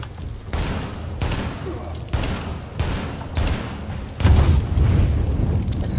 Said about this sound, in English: I have to use my pistol to get this guy again.